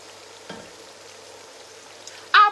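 Blended ginger, garlic and onions fry in a pan with a faint, steady sizzle, then a sudden loud burst of hissing near the end.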